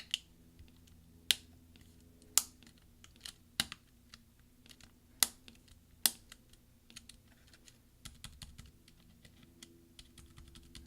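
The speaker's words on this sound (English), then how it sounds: "press down until you hear all the snaps from the various clips underneath it that need to click in" Plastic clips beneath a tab key on an Early 2011 13-inch MacBook Pro snap into place, a series of sharp, close clicks, several loud ones spaced irregularly then a quicker cluster of fainter taps, with no voices.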